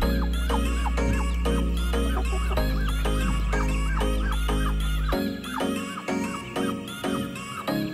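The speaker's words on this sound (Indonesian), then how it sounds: "Gangguan ya ayam potong." Broiler chickens cluck continuously, with dense overlapping clucks and squawks from a close flock under a steady low hum.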